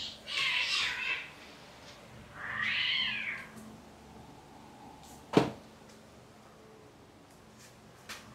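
A cat meows twice, the calls spaced a couple of seconds apart and moderately loud against a quiet background, followed by a sharp knock.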